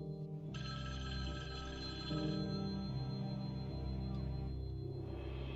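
A telephone rings in a fan-made Halloween horror video game, a sustained electronic bell tone that starts abruptly and holds steady, loud and clear with no talking over it.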